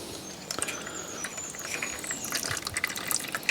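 Coolant trickles and splashes as it drains from the radiator of a Fiat 500, a steady close liquid patter with irregular drips and spatters that grow a little busier toward the end, with no talking.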